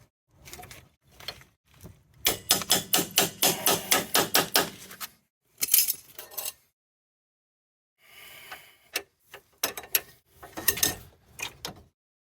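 A quick run of rhythmic metallic striking on a 2012 Honda Civic during front strut replacement, about a dozen rapid hits, followed by pauses and scattered clanks and knocks.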